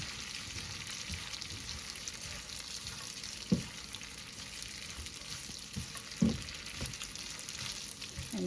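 Pasta sizzles steadily in a hot pan with the heat just cut off, with a couple of sharp clanks as it is tossed; fairly quiet and close, with no talking.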